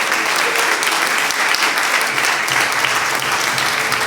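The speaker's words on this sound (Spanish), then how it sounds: "un aplauso de bienvenida a la pastora Mari" A church congregation at an anniversary service gives a loud, sustained round of applause to welcome Pastor Mari, with dense clapping from many hands holding steady throughout.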